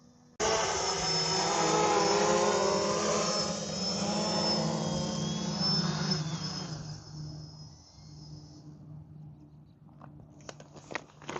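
A drone in flight gives a loud, high-pitched whine with a buzzing motor drone, steady and close at first, then fading out and dying away, followed by a few faint clicks and knocks.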